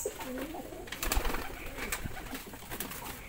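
Several domestic pigeons on a rooftop coo nearby in low, throaty warbling phrases, overlapping and repeating, with a few sharp knocks and rustles in between.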